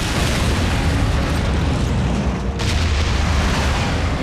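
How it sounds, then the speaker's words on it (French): A proximity bomb explodes in a Transformers Prime cartoon, a loud, dense, sustained roar and rumble filling the whole stretch with no pauses. "Une bombe de proximité."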